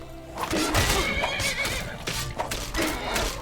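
A horse whinnies loudly and repeatedly while being attacked during a Forsworn fight in the Reach in a video game, with close whinnies over a busy bed of combat noise and hoof clatter.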